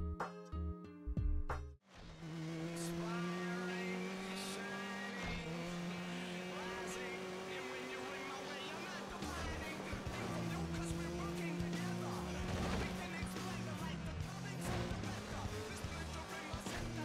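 Car racing video game from the PS2 era with crash effects: engines roaring and revving continuously with tire squeal, preceded by a sharp burst of impact noise, loud and sustained throughout.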